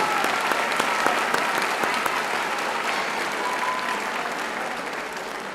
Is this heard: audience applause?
yes